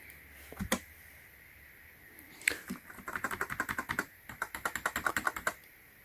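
Keys tapped on a HYPERGEAR gaming keyboard: a few isolated clicks, then quick close-up bursts of rhythmic typing, loud and crisp against a quiet room.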